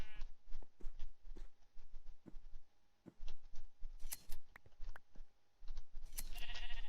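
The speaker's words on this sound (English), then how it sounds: "It's supposed to make sheep nearby, like, regrow their wool." Sheep in the video game Daybreaker bleat in short, scattered calls over quiet game ambience, with occasional soft snipping-like clicks between them.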